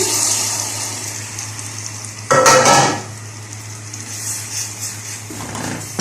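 Garlic and onion sizzle softly in a pan with a steady hiss, then a sudden loud burst of sizzling flares for about half a second when tomatoes go in before easing back to a gentle fry.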